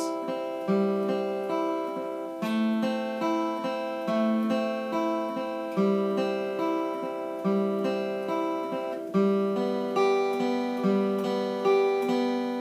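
Guitar played with all downstrokes of the pick, each note ringing and decaying before the next, a regular repeating chord pattern played close and clear.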